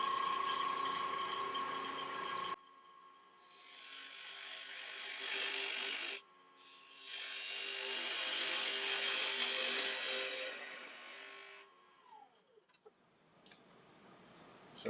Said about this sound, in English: I'll bring the speed up a little bit now, the piece is balanced. So I'm turning about 1400 RPM.